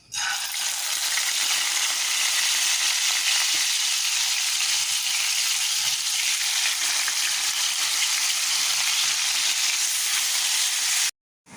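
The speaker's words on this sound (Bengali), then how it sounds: "তো আমি একটু ফ্রাই করে নিচ্ছি" Pieces of fish fry in a pan with a loud, dense, continuous sizzle and hiss that holds steady for about eleven seconds before cutting off abruptly.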